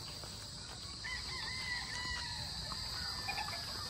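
Prime Eagle gamefowl roosters crowing in a breeding area, several crows overlapping at a moderate distance over a steady background hiss, with no talk.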